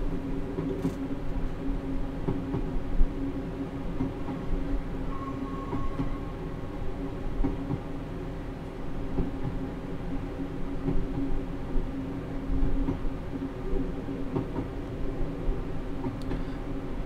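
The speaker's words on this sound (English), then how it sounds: "And now I'm going to shut off the power once again and just allow the train to coast along here." A passenger train in the Train Simulator game coasts with its power shut off along the Looe Valley Line, giving a steady rolling rumble with a continuous mechanical hum and faint track clatter throughout.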